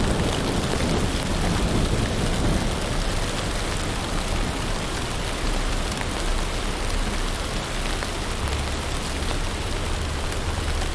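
Heavy rain pours in an animated Halloween cartoon scene, a dense, loud, unbroken wash of falling water with a deep rumble underneath, steady throughout with no voices.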